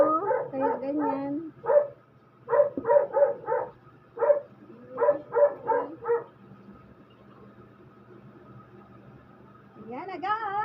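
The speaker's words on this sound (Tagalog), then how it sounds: "Ingay naman ang aking aso." A pet dog barks repeatedly at a person, loud bursts in several quick clusters with short pauses between, close by, with a final howling yelp near the end.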